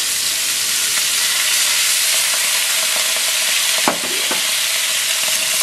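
Crab sizzles loudly in a hot pan as wine is poured in, a dense, continuous frying hiss with a brief sharp burst of spitting and crackle partway through.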